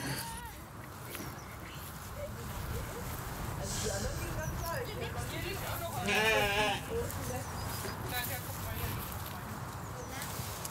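Sheep being rounded up near an abandoned town let out a few wavering bleats, the clearest one midway through, under people talking and a constant outdoor rumble.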